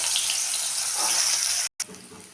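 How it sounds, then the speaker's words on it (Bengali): Eggplant cubes fry in hot oil in a pan, giving a loud, steady, close hiss that cuts out sharply for a moment near the end and then resumes more softly. "তেল বসিয়ে দিয়েছি, এখন আমি বেগুনটা ভেজে নেব।"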